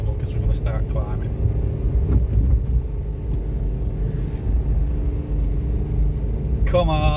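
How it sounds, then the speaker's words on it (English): Car engine labouring in low gear while climbing a steep narrow lane in Polperro, a continuous low droning rumble heard from inside the cabin, with a voice talking briefly over it. "this is where my car's going to struggle, because we're going to start climbing"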